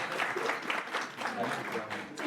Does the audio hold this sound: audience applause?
yes